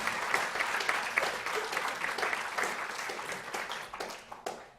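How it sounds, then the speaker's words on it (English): A lecture audience at a university diversity event breaks into steady, full applause, many hands clapping evenly before the sound tapers off near the end. "I really want to give a round of applause again to all of you"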